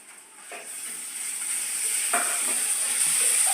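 Onion and tomato fry in a pan with a steady hissing sizzle that grows slightly louder, plus a couple of soft stirring scrapes, close up with no talking.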